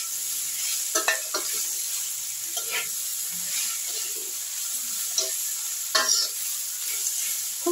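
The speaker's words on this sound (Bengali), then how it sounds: "শাকটা দিয়ে আমি সবজিগুলোর সঙ্গে নাড়াচাড়া করে নিচ্ছি।" Thankuni greens stirred with vegetables in a frying pan, giving a steady sizzle with intermittent scraping strokes of a spatula, close up and alone with no voices.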